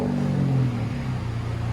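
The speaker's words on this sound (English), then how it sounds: "Give it a couple of revs after you start it." Ford Focus ST fitted with a Borla S-Type exhaust, a close, deep engine rumble whose pitch swells and then settles over a short rev, with no talk.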